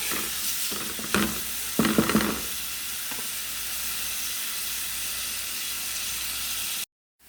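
Shallots, garlic and ginger sizzle steadily in a hot pan with oil, with a few scraping stirs near the start, a constant close frying hiss that cuts off abruptly at the end.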